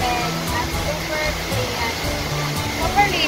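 Clear, cold spring water pours steadily at a collection spot, a continuous close rushing hiss that stays level throughout, with no clear speech on top.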